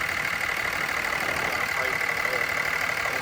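A 5.9L HO Cummins diesel in a Dodge Ram 2500 4x4 idles steadily nearby, a constant even rumble with no rattle or change in pace.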